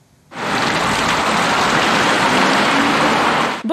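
Hot water pouring steadily into a street storm drain during spring maintenance, a loud continuous rushing splash that starts abruptly and holds for several seconds.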